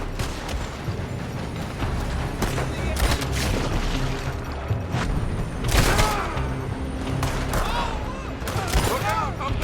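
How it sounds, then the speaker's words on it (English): Gunfire in Red Dead Redemption 2, repeated loud rifle and pistol shots with booming reports and echoes scattered irregularly over a tense battle ambience, with shouted voices in between. "They're shooting from that building!"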